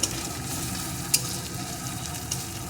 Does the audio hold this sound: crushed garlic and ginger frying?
yes